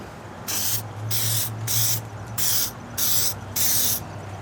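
A final medium wet coat of clear spray goes onto a car headlight during a Meguiar's restoration, heard as six even, close bursts of aerosol hiss separated by short pauses over a low background hum.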